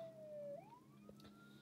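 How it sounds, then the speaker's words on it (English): A siren wails briefly in the distance, its tone sliding down and back up, faint against a low background hum. "Police sirens"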